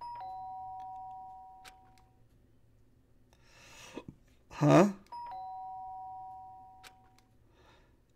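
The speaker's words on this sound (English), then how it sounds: "Sharp sound on my doorbell pierced my sleepy haze and pulled me back into the real world." A doorbell in the video game Trigger Happy Havoc rings with a clear two-tone chime, then again a few seconds later. Between the chimes there is a short surprised vocal sound and a brief louder noise, over a quiet background.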